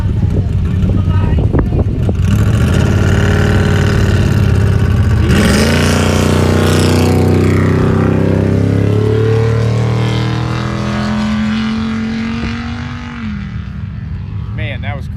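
A Ford Raptor trophy truck engine at an off-road race qualifying session in Broadview, Montana, roars loud and close, its deep rumble rising in pitch as it revs and pulls away, with a voice talking over it.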